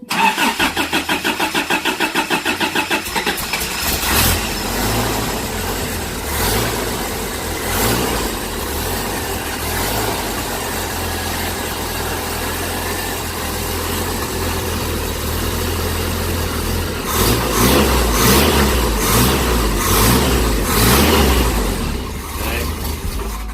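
A Toyota Celica GT project car with no windshield cranks and starts, then revs roughly and unevenly because it will not idle, loud and close throughout with several bursts of throttle.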